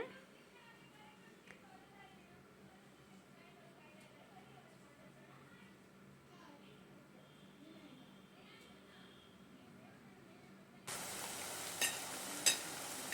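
Soft sizzling of cauliflower pieces deep-frying in oil for gobi manchurian runs under a person's speech, then swells into a louder, crackling hiss near the end.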